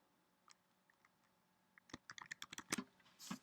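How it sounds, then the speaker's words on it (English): Typing on a computer keyboard: a few scattered, faint key clicks, then a quick, denser burst of crisp taps close by, ending in a louder clatter. "Type in your bank account name"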